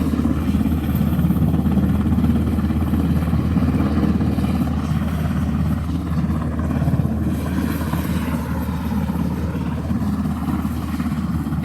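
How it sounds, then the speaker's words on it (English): A medical helicopter lifts off from a park, its engine and rotor producing a loud, steady low roar and rumble that fills the air without pause, heard up close. "And you'll be able to see this helicopter taking off."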